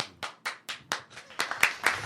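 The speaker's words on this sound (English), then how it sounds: "Can I get like the hand clap?" A run of sharp hand claps at a steady beat, about nine in two seconds, close and crisp with no voices.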